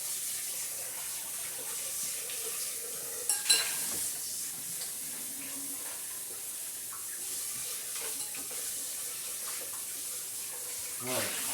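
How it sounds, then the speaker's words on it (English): Tap water runs steadily into a dough mixing bowl being rinsed out after making pizza dough, a continuous close hiss with a couple of brief clatters of the bowl. "sometimes I wash this out just to help make cleaning easy later"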